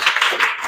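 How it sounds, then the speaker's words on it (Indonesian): A few classmates clap briefly for a student in a classroom, a short scattered patter of nearby hands lasting under a second. "tepuk tangan untuk Rohim"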